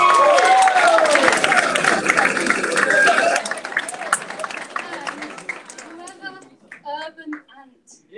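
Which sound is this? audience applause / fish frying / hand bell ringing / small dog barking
audience applause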